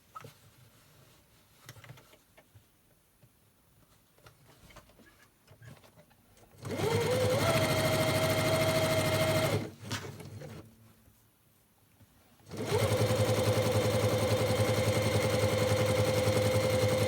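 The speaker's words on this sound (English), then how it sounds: "you're going to sew down that edge there." A sewing machine stitching down the edge of a fabric lunch bag, close and steady, running in two sustained bursts of whirring stitches separated by quiet handling noises.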